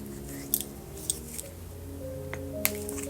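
Sticking scissors snip through garden flower stems in a few sharp, separate clicks over a low background hum, close and quiet.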